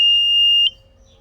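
A German C-0467 PAPR respirator gives a single loud, steady electronic beep on being switched on, held for about half a second, then cut off, leaving a faint fan hum behind.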